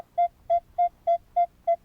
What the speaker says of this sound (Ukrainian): Так, друзі, є доволі гарний сигнал.